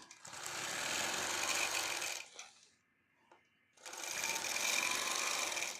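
A sewing machine custom-quilts a quilt top, running loud and steady in a sustained burst, stopping briefly in near silence, then starting up again at full speed.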